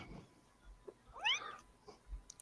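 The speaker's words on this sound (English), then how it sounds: "I hear kitty. Whose kitty was that?" Cat meowing, a single clear rising-falling meow in the middle, moderately close, with faint low background noises and no talk.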